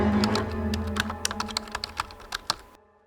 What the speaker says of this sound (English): which is the sound of me clacking on a keyboard, purchasing a plane ticket to fly back to Ohio.